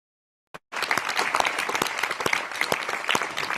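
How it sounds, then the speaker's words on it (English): Applause for Julian Assange fills the European Parliament chamber, a sudden full burst of many hands clapping steadily after a brief silent start. "watch the applause the European Parliament gives to Julian Assange"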